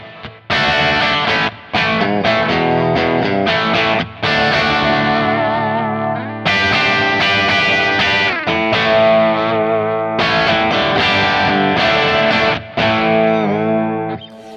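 Electric guitar played through a Kemper profiling amp dialed to a Marshall sound, distorted chords and riffs ringing loudly with short gaps between phrases, no voices.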